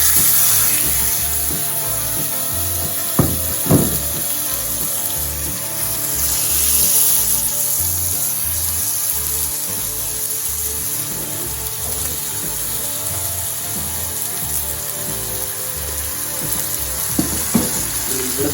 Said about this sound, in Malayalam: പാൻ വെച്ച് ഓയിൽ ഒന്ന് ഒഴിച്ച് കൊടുക്കണം. സ്റ്റീക്ക് നമ്മൾ ഇട്ട് കൊടുക്കണം.